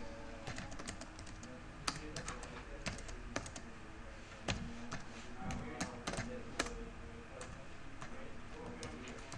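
Fast typing on a computer keyboard, rapid irregular clicking of keys nearby with occasional louder strikes in a quiet lecture room, with faint background murmur.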